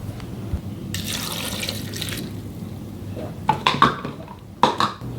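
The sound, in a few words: water poured into blender with pandan leaves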